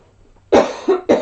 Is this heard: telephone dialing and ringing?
no